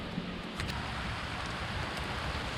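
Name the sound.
rain starting to fall outdoors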